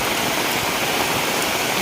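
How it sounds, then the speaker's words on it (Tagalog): Heavy rain pours down in a dense, unbroken hiss that is loud and close, with no voices. "Sobrang lakas din po ng ulan talaga."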